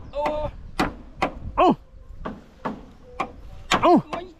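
Hammer blows knocking on nails while a wind-damaged roof is repaired: several sharp, spaced knocks at an irregular rhythm, close and fairly loud, mixed with talking voices and a few tonal vocal sounds.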